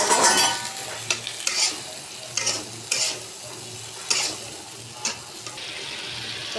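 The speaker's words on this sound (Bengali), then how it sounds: "একটু ভালো করে কষাই" Chicken curry with onions stir-fried in a pan: loud, close scraping strokes of a spatula recur every half second or so over a soft sizzle, with no talking.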